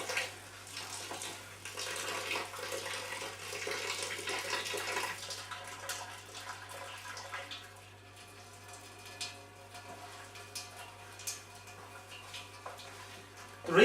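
Water pours steadily into a brewing vessel holding malt for an all-grain lager, a continuous splashing rush that softens midway and carries on with faint knocks, no voices over it.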